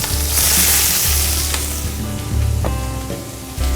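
Meat browning in a hot pan during a slow-roast preparation, turned to sear the other side: a loud, steady sizzle with crackling pops and a faint scrape of stirring, heard close and alone.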